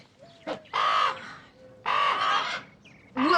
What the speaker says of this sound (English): Will you birds shut up?